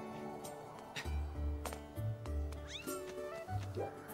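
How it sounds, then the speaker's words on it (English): Cat meowing in the game Zelda: Skyward Sword, several short meows with a caterwauling edge in a quick sequence over a steady in-game music bed, fairly close and clear. "Look at this cat!"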